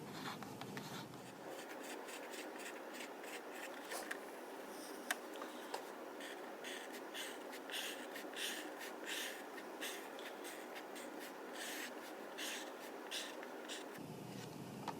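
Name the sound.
drawing texture on paper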